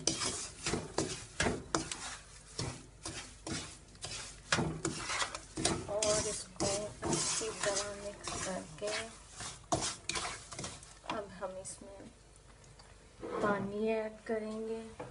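Semolina halwa with raisins and chopped almonds being stirred in a pan, a steady run of scraping and rubbing strokes with faint sizzling, close by, under a voice talking throughout.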